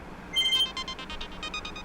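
A phone rings for an incoming call, giving a quick run of bright electronic ringtone pulses, fairly faint against a low background hum.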